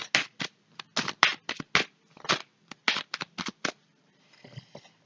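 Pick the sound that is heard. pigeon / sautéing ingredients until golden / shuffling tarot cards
shuffling tarot cards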